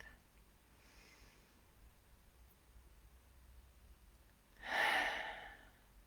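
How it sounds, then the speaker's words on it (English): A single slow, deep breath drawn and released near the microphone in a quiet room, swelling to a soft airy rush toward the end. "Another full breath."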